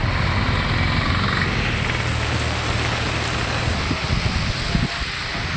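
Heavy rain pours down in Nellai, with water rushing along a road, a loud, dense, unbroken hiss and wash close by; no distinct thunder stands out.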